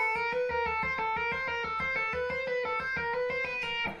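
Electric guitar plays a smooth legato exercise, a quick unbroken run of repeating notes, close and steady for a few seconds with no voice.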